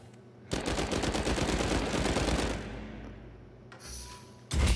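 Bursts of rapid automatic gunfire in Uncharted 4 rattle loudly and close for about two seconds, fade out, and then a heavy thump hits at the end.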